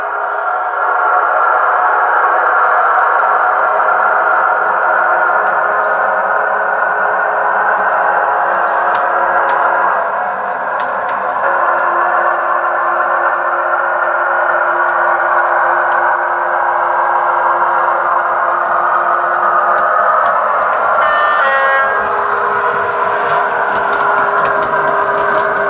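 Model HST train fitted with a sound system pulling away, a loud sustained engine drone with a steady mechanical whine that holds for about twenty-five seconds, a brief flutter of clicks near the end, no speech.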